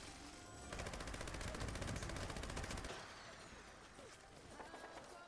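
An AA gun in Fallout 76 rattles out a rapid, loud burst of automatic fire lasting about two seconds, then the game settles into a quieter, busy backdrop.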